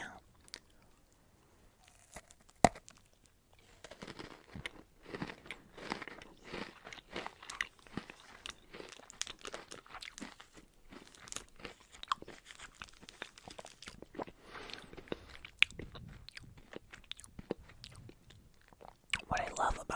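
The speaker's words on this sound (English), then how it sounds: "What I love about Butterfingers is how crunchy they are" Crunchy Butterfinger candy bar being bitten and chewed up close, irregular crisp crunches and mouth sounds repeating through a quiet ASMR setting, occasionally louder snaps.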